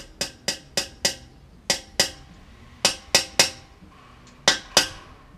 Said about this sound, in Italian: Qui ci si dà un colpo col martellino.